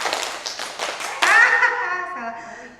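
Clapping game led in Indonesian with a group of women, several people clapping together on a numbered call; a run of sharp, fairly close claps, then a louder smack, with voices mixed in.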